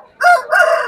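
An aseel rooster crows at a busy Delhi bird market, one loud, close, two-part call lasting about a second.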